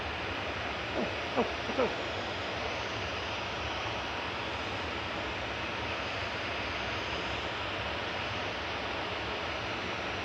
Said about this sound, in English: Here's Singapore 51 just coming over the threshold.